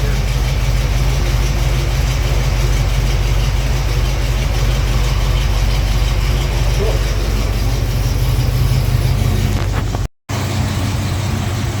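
A 1968 Pontiac Firebird engine idling steadily while it warms up, loud and close, with a continuous low rumble and a brief dropout near the end.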